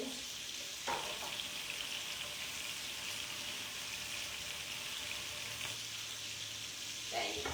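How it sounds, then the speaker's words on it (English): Vegetables sizzle in a frying pan in a home kitchen, a steady, close hiss of frying that carries on without a break, with a few faint stirring clicks and no talking. "It's sizzling, smells good."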